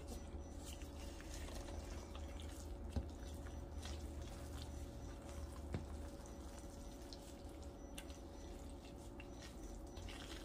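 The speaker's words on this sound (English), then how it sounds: "so now I'll put the rest of my broth in." Broth poured into a cornbread dressing with crab and oyster, a faint, steady liquid trickle with soft drips and a couple of small splashes throughout.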